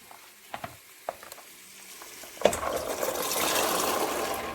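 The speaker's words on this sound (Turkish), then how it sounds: "Salça da güzel kavruluyor." Tomato paste frying for a chickpea dish: quiet spoon taps and scrapes at first, then a sudden loud burst of sizzling that settles into a steady hiss.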